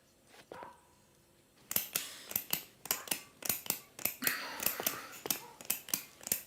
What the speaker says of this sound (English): stop clicking the lock. It's extremely annoying.